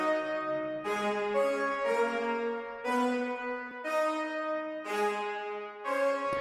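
French horns in a song mix, heard dry without EQ, playing sustained harmonized brass chords in several swelling phrases with rich overtones, loud and close, no voices over them.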